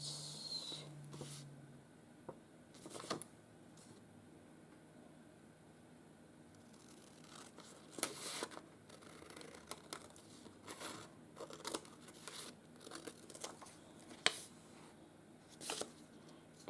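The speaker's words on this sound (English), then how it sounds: "I'm just using the scissors out of the kitchen drawer at the moment" Kitchen scissors snip through paper in a quiet room, with scattered short crisp crunching cuts and crinkles spaced irregularly over the span.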